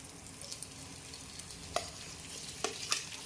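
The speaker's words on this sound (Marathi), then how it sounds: "आता यात मॅश केलेला बटाटा टाकून घेऊ." Mashed potato is stirred and fried in a pan, a soft continuous sizzle broken by a few scraping stirs, heard alone at low level.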